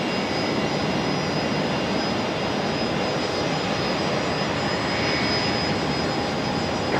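A Jetstar jet airliner departs Brisbane Airport at night, its engines a broad steady roar from a distance with a high whine on top, no voices.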